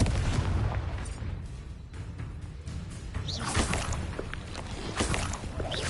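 Combat spells such as Depulso, Glacius and Confringo firing in Hogwarts Legacy, with repeated booming impacts and whooshing bursts that overlap densely across a continuous stretch of battle noise.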